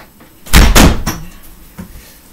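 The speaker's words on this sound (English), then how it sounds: "That slam was me closing my door." An indoor room door slamming shut, two quick loud bangs close together followed by a softer rattle and a faint knock as it settles.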